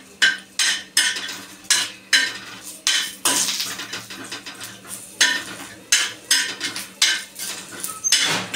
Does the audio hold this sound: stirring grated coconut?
yes